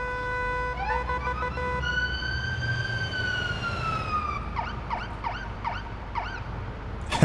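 An ambulance siren, responding to an explosion with people injured at a construction site, wails loud and close in long rising and falling sweeps, then switches to a fast repeating yelp pattern.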